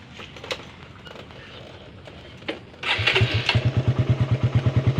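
A dual-exhaust motorcycle engine idles unevenly, then revs up into a loud, rapid pulsing putter close by, as if being maneuvered slowly into a parking spot.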